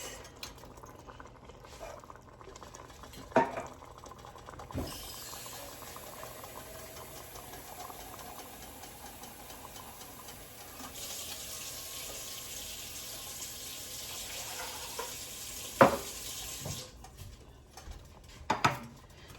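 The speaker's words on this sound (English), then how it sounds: "And a cup and a half of beef broth." Beef broth poured into a pasta pot of crushed tomatoes, heard as a soft, steady liquid splash broken by a few sharp clinks of metal, fairly quiet and without speech.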